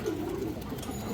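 A pigeon coos with a low, soft, throaty murmur, close by, for a brief moment against steady background noise.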